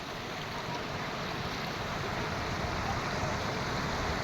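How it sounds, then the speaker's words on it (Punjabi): Fast-flowing floodwater rushing through a flooded village in a steady, loud, broadband roar, constant throughout with wind buffeting the microphone. "ਇਧਰੋਂ ਪਾਣੀ ਦੀ ਤੇਜ਼ੀ ਦੇਖ ਲਓ"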